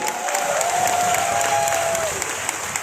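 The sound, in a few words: loud applause for Vestige and the winning team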